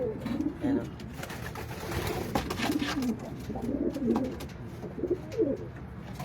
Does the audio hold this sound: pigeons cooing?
yes